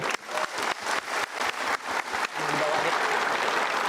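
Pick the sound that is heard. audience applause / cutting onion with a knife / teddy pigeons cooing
audience applause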